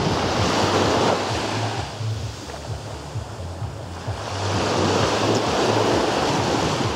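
Steady roar of Black Sea surf breaking on a beach at Yevpatoria, Crimea, swelling louder at the start and end, with wind buffeting the microphone and a low hum underneath.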